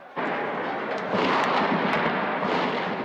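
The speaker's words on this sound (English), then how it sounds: "Gunfire on the bridge aimed at anti-government protesters." A sustained, dense roar of loud gunfire on a bridge in Egypt, aimed at anti-government protesters, rattles without pause, a continuous burst of shots blending into one harsh wash of noise.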